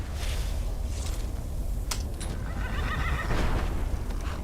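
Arvak, a summoned magical horse in Skyrim, lets out a loud whinny near the end, preceded by a few hoof clops and a bright magical chime over a steady windy background, with no talk.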